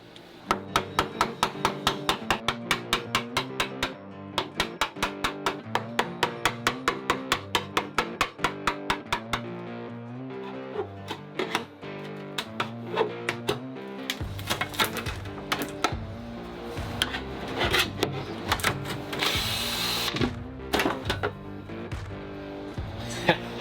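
Old sinks being hacked apart aboard a sailing boat: fast, evenly spaced sharp strikes for several seconds, then denser, rougher cutting noise, all fairly close.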